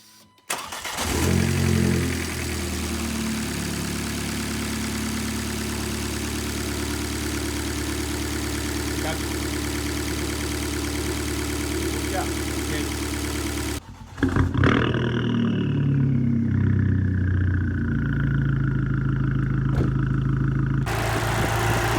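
A Fiat Punto Abarth 1.4 Turbo 16V engine cranks and catches after timing-belt work, then runs with a loud, steady roar close by; it cuts briefly near the fourteen-second mark and restarts, idling strongly to the end.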